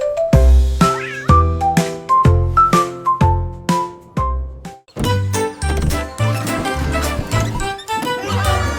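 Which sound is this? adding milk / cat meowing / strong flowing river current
cat meowing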